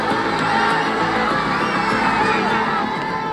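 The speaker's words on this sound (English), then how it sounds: "crowd surges towards Parliament." A large protest crowd surging toward Parliament shouts and roars in a dense, loud, continuous mass of voices, with overlapping yells and high-pitched cries that keep the din sustained throughout.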